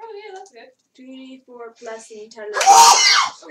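A loud, close sneeze bursts out near the end, following a stretch of excited talk and cheering around a tabletop fantasy role-playing game.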